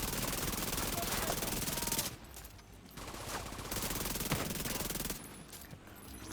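Automatic gunfire in the shooter game The Division 2: dense, sustained bursts of rapid shots, breaking off briefly twice before resuming at full loudness.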